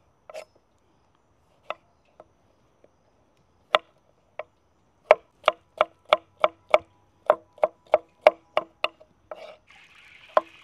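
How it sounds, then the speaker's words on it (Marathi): Knife chopping tomatoes for a vegetable curry on a board: a few scattered cuts, then a quick steady run of about a dozen sharp, evenly spaced thwacks, close and clear with no talk. "आपण आता भाजीसाठी टमाटर कट करून घेऊ"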